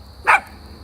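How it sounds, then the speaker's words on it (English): A single short bark from a dog down the street, brief and moderately distant over a quiet background hum. "she hears a dog down the street bark"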